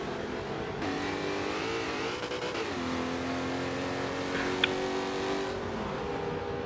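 Vintage GTA Trans Am race cars lap Brands Hatch in Forza Motorsport 7, a steady engine drone with rising and falling revs as the cars run down the straight. It plays alone with no talking.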